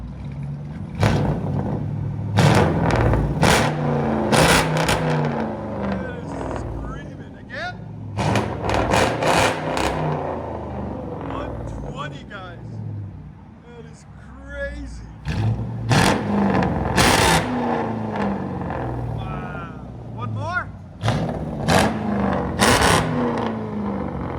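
A straight-piped V8 car engine idles with a loud, lumpy rumble and is blipped into several sharp revs, with people talking over it.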